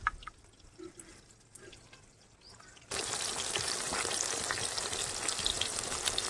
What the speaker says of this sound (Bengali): এক পিঠ ভাজা হয়ে গেছে, আর এক পিঠ ভেজে নেব।